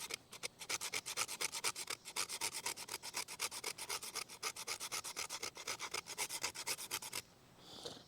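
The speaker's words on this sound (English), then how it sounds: "So you can build up quite a little pile of shavings there just by scraping on this scraper." A stick of wood is scraped rapidly against the scraper of a Swiss Tech fire kit, making a dense run of rhythmic, close rasping strokes that stop just before the end.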